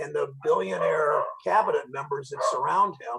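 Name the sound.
dogs barking and whining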